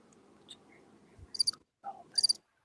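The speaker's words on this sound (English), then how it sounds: "I heard the cricket sound effect." Cricket chirping sound effect played during an online reunion call for a game show, two short shrill chirp bursts over a low murmur of background noise.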